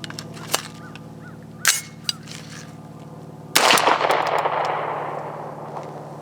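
A CMMG Guard 45 pistol fires SIG Elite Performance 230 grain hollow point rounds: a few sharp cracks, the last and loudest followed by a lingering outdoor echo.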